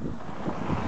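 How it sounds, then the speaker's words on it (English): Gusty wind buffets on a blustery afternoon in Sweden, a rough, broadband rushing that swells toward the end of a very short stretch, with no voices. "It's such a blustery, beautiful afternoon."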